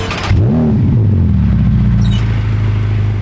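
A $330,000 Ferrari supercar engine fires up and revs sharply, its pitch climbing and falling before settling into a loud, steady close-up idle.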